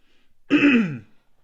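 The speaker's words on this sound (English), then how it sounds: "I need to clear my throat tonight." A single short, raspy throat clearing, close and distinct, in otherwise quiet surroundings.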